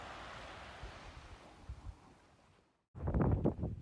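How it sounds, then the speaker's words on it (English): Wind gusts roar across the microphone at a coastal campsite at Steep Point, Western Australia, with a steady rushing hiss, a brief lull, then a louder buffeting burst. "Sorry about the wind again."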